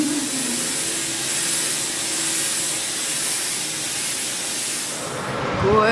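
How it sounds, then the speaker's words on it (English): A handheld clothes steamer hisses continuously and loudly while smoothing an outfit, a broad airy rush that holds steady for several seconds before a brief voice cuts in at the end. "I'm steaming my airport outfit."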